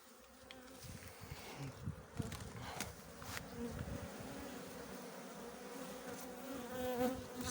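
Honeybees from a drone-laying colony buzz steadily inside an open hive, a dense, continuous close-up hum that swells slightly toward the end, with no voices.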